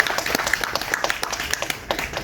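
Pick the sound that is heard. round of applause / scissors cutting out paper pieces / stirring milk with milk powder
round of applause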